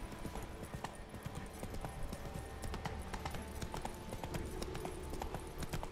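Horse hooves clip-clop in a steady rhythm through the game The Witcher 3, a continuous near trot over a busy background of game ambience, with no talk.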